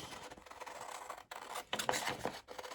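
Scissors snip and scrape through paper as small words are cut out for a beginner card project, close and quiet with uneven strokes and short pauses.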